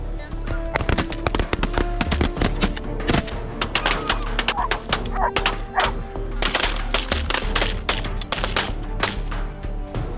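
Hunters firing rifles at geese, sharp rapid shots in quick irregular bursts mixed with goose honks and calls, with someone talking under the commotion.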